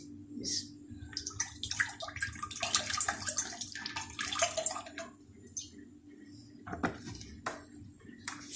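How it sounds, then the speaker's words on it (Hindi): Oil poured into a kadai for frying hot wings in a home kitchen, a splashing, gurgling pour with metallic clinks, then quieter, with a brief clatter later. "अब मैं भी फ्राई करने के लिए ऑयल डाल रही हूँ"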